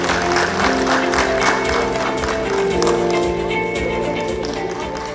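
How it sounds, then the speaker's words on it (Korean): Audience at a regional public debate in North Gyeongsang Province applauding steadily as the arriving governor comes onto the stage, a continuous wash of clapping from a crowd. "박수 부탁드립니다."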